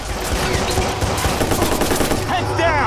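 Rapid gunshots in the video game Watch Dogs crack out in a dense, continuous volley, and a voice briefly calls out over the firing.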